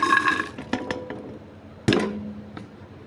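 Water poured into a pressure cooker while making chicken karahi, a brief splash and trickle amid clinking of metal pots, with a second short pour later; close and moderately loud, no talking.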